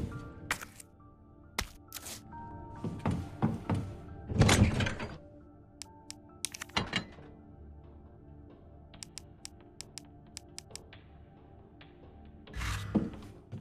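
Gate opening in Resident Evil 2 Remake at the RPD station: a run of dull thunks and clanks with a heavier rumbling burst midway, then sparse ticking clicks and a final clunk, all fairly quiet with no talk.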